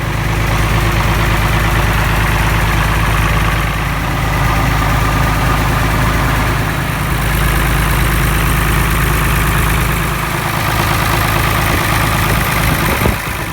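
A Farmall 560 tractor engine with a fuel-flow fault runs at a steady, loud low idle close by, its heavy rumble and vibration continuing unbroken with no talking.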